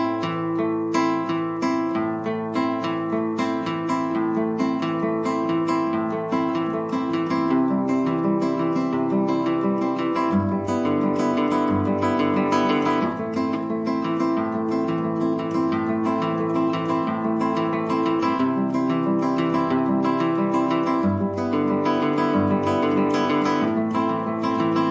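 A guitar plays a steady beginner fingerpicking pattern, ring and middle fingers plucking the two highest strings together, with even, continuous arpeggiated notes and no talk.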